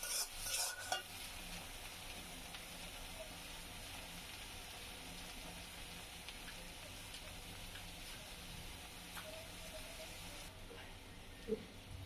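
Two large onions with whole garlic cloves fry in mustard oil for a Bangladeshi village-style chicken curry, giving a steady, soft crackling sizzle throughout, with a few brief clatters near the start and end.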